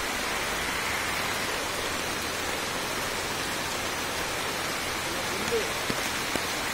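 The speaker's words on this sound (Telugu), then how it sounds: "విభత్సమైన వాన." Heavy rain falls in a forest, a dense steady hiss of downpour that fills the whole scene, with a couple of faint knocks near the end.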